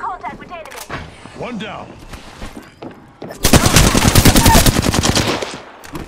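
Rapid automatic gunfire from the video game Apex Legends bursts out loud and dense in the second half, after brief earlier shots and game sounds, with a voice speaking briefly.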